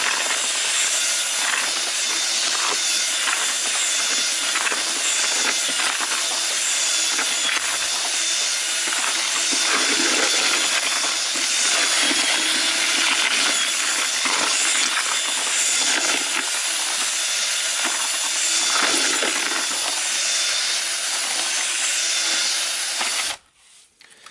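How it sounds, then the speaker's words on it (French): A paddle mixer on a drill churns ready-to-use PRB mounting mortar in a bucket, giving a steady, dense, gritty whir that runs unbroken and loud for most of the stretch before cutting off abruptly near the end. "je prends le malaxeur"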